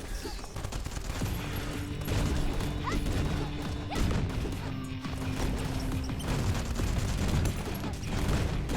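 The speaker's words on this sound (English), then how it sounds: "All have explosions and fire." Rapid gunfire, crashes and explosions pile up in the Ratchet & Clank video game during a fight scene, a dense, continuous barrage of bursts and impacts at steady loudness.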